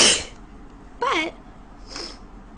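A woman with a bad cold sneezes loudly and close up, one sharp burst at the start, then a shorter voiced sneeze or vocal sound and a softer breathy one, separated by brief pauses.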